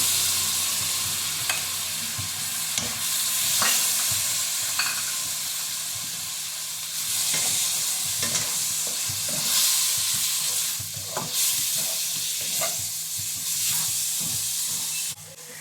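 Tomato added to a pan of frying chicken sizzles and hisses loudly and continuously, with intermittent scrapes and knocks of a stirring spoon throughout, close up and without speech.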